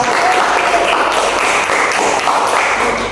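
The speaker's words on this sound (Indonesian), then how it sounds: "Tepuk tangan dulu ya." An audience at a school social work session claps loudly and continuously, a close, dense wash of applause with scattered sharper taps.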